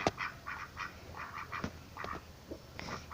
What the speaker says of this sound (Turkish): Bakın ördeklerimiz.